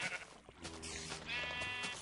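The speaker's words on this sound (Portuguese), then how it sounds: "Vou aproveitar e matar esta ovelha." A sheep bleats in the Minecraft video game, one wavering bleat rising after a brief scuffle of sound, fairly quiet and alone.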